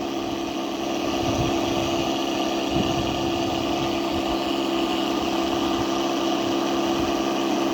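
A motorised water pump sprayer drones steadily while watering cauliflower seedlings, a continuous engine hum with faint irregular low thumps, close and alone.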